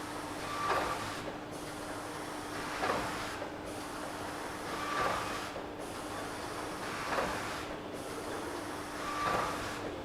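A high-speed multi-lane stickpack packaging machine runs in a factory, giving a constant mechanical hum with a rhythmic whooshing cycle roughly every two seconds. The sound is steady and moderately loud, with no talking.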